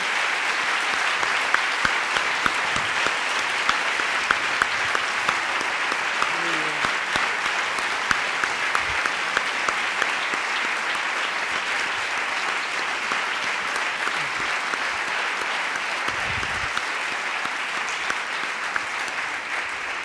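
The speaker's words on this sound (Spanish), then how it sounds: "estos señores habrá que aplaudirles ahora" An audience at a public talk in a hall applauds loudly and steadily for about twenty seconds, a dense continuous wash of clapping with some crowd noise underneath.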